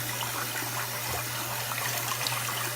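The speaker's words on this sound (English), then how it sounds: "we're gonna rinse this under cold water" Fresh homemade butter is rinsed under cold running water, a steady gushing stream splashing continuously at moderate loudness, with no one talking.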